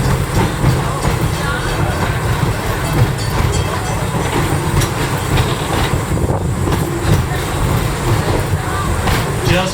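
A train rolls steadily along the rails with a dense rumble and rhythmic clickety-clack, loud and close throughout, with a voice speaking over the running noise.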